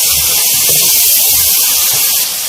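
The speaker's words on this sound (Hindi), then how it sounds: "इन सब चीज़ों के साथ हमें अपने मसाले को अच्छी तरह से भूनना है" Masala spices frying for ginger chicken give a loud, steady sizzle and hiss that runs unbroken throughout, close to the pan, with no voices.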